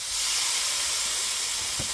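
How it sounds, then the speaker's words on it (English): Steady hissing sizzle of chicken tenders cooking on a 500-degree grill, continuous and fairly close, with no talking. "I don't know if you can hear it sizzling."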